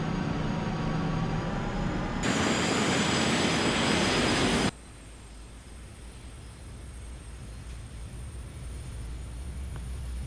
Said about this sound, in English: And we're ready for takeoff.